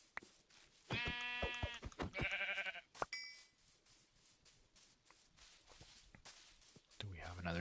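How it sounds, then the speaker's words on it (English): Sheep bleating in the video game Minecraft, two short wavering bleats near the start, followed by soft footsteps and game sounds with a quieter bleat-like call at the end. "another sheep nearby?"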